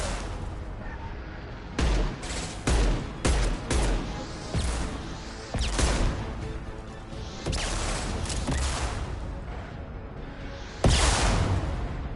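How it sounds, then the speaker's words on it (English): Impact shot fired in Mass Effect 2: repeated loud, sharp broadband blasts at irregular intervals amid game combat noise, with several bursts clustering and one heavy final hit. "Firing an impact shot."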